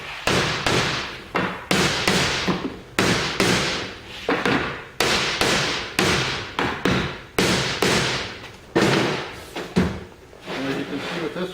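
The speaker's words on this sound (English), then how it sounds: "then take your hammer or mallet and block away." A hammer or mallet blocks a Forgemaster forge top reliner into place with a steady run of loud, close, solid thumps at an uneven pace, repeated without pause.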